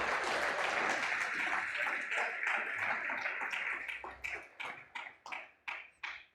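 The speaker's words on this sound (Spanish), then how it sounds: "Dele un aplauso fuerte al Señor, mi hermano." Church congregation clapping for the Lord, a dense wash of applause that thins out toward the end into a few loud, separate claps, close by.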